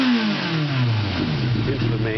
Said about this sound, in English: You can hear, got a nice smooth off idle.